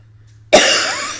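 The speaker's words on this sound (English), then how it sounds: "My cough, it's still here." A single sharp cough from an adult with multiple sclerosis, loud and close, bursting after a quiet pause and trailing off briefly, with a faint second catch at the end.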